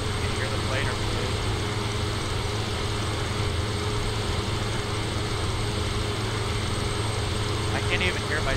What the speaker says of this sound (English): Can you hear the plane or plane?